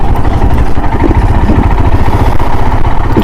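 Royal Enfield Thunderbird motorcycle engine chugging steadily nearby on a group ride, a loud low thumping rumble with even rhythmic pulses and constant wind-blown roar.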